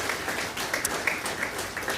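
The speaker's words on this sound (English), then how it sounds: "let's give her a round of applause" An audience applauds with brisk, dense clapping that holds steady for a couple of seconds, close and fairly loud, with no talk over it.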